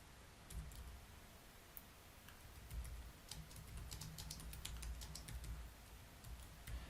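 Quick bursts of keystrokes clatter on a computer keyboard up close, a light irregular clicking that runs throughout over a low background hum, with no talking.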